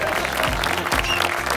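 Audience applause at a mushaira during an Urdu Heritage Festival, welcoming a poet to the stage; steady dense clapping throughout with crowd noise.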